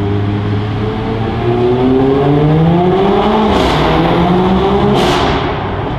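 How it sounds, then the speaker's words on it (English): A Mercedes CLA45 AMG fitted with an iPE exhaust system roars loudly and continuously as it accelerates out of a tunnel, its engine note climbing through revs with a couple of sharp crackles near the end. "This exhaust is insane, honestly."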